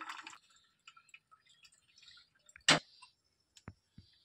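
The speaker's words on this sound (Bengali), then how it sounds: "জলটা কিছুক্ষণ ঝরবে" Water drips from a strainer of boiled elephant-foot yam stalks in a home kitchen. Sparse, faint, irregular drips and ticks fall in a quiet room, with one louder plop near the middle.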